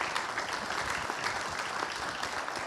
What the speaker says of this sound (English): Let's give him a round of applause, everyone here.